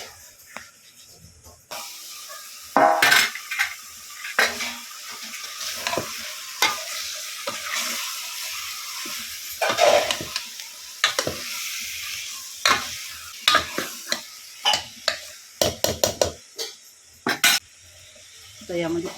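Chicken sizzles as it fries in a spiced masala of turmeric, garam masala and chili in a pot on a wood-fired clay stove, under a steady hiss with repeated sharp clacks of a spoon stirring and scraping.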